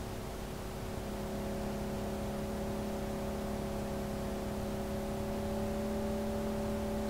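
Car in Cyberpunk 2077 driving along with a steady, even engine hum and whirring drone that holds a constant pitch throughout, close and continuous with no voices.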